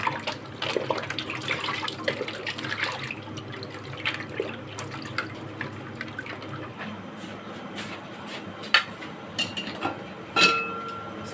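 Water splashes and trickles in a kitchen sink while food is washed, irregular and moderately close, with clatters and knocks of handling scattered throughout.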